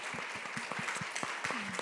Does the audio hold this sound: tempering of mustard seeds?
no